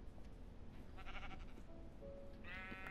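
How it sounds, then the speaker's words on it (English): Faint sheep bleats from the Minecraft video game, a short call near the middle and a brighter one near the end, partly buried under a dense wash of steady background noise. "Sorry, sheep."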